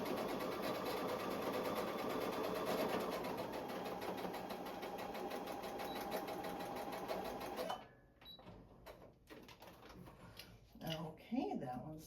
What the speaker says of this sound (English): So now I'm going to stitch this seam right here. And I'm going to back stitch as well.